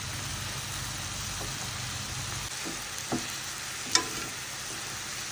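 Mushrooms and onion fry in a pan with a faint, steady sizzle. A few soft stirring clicks and taps sound over it.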